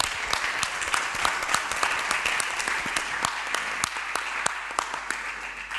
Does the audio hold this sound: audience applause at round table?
yes